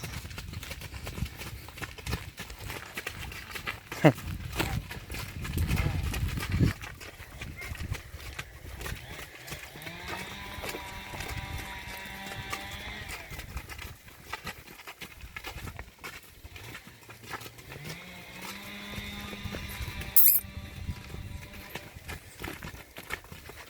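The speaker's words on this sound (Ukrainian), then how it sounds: "Лошечка чемна, за кобилами йде" Horses walk along with a foal following behind the mares, their hooves clip-clopping steadily. A voice talks over the footsteps, and a faint whinny-like tone rises partway through.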